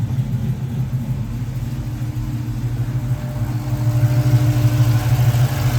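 A Toyota with a swapped-in Hemi engine runs steadily, with a loud, low, continuous rumble heard close by, and no one speaking.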